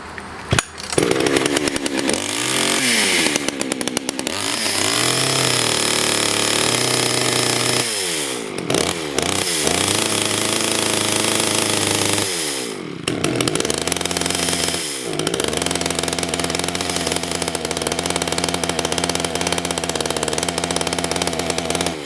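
An old Pioneer chainsaw engine runs loud and close, revving up and down several times with brief drops and sweeping pitch changes between stretches of steady, high idle-to-full buzzing.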